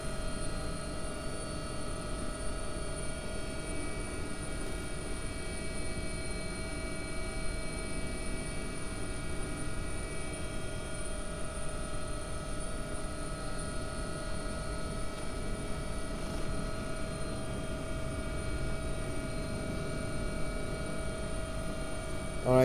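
An AW-139 helicopter in the X-Plane 11 flight simulator, its rotor and turbines droning in a steady, even hum with tonal whine throughout at moderate level.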